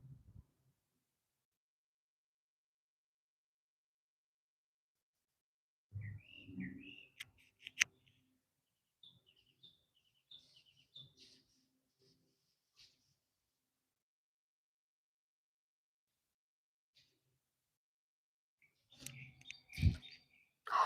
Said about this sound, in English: Oh, those were parrots.